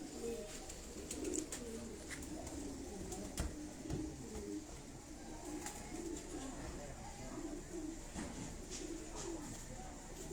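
Soft cooing of a high-flying pigeon repeats low and steady over a hushed background, with a few faint clicks and no voices.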